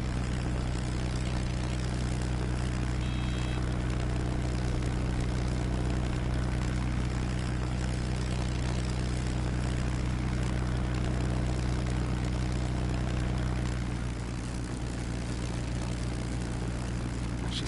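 A propeller airplane engine idles at low throttle in the VR flight game Ultrawings, a steady low droning hum with a faint buzz above it, holding constant throughout with a slight dip near the end.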